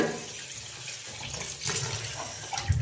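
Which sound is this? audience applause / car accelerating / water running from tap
water running from tap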